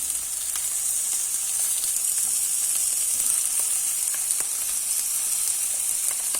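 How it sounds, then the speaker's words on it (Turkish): Slices of sucuk, a Turkish sausage, sizzle in a hot pan, a steady crackling hiss with occasional pops, close and continuous. "Sucuklar da her iki tarafa kızarana kadar tek tarafa çevirip kızartacaksınız"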